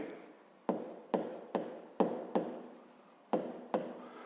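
A pen or pencil writes out the first step of a math solution on paper, making a series of short scratchy strokes that start sharply and fade, close by and quiet.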